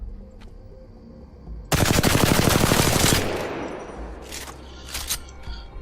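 A high-accuracy weapon in Apex Legends fires a rapid, loud burst for about a second and a half during a recoil test, then fades into echoing tail and a few scattered later shots.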